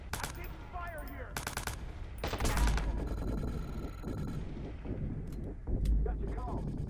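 Gunfire in the Watch Dogs video game: dense bursts of automatic weapon fire and rattling shots fill the scene, loud and continuous, with game speech and effects mixed in.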